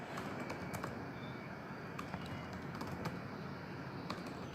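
Computer keyboard keys, including backspace, pressed in a spreadsheet, heard as scattered light clicks and taps at moderate distance against a steady low background hum, with no one talking.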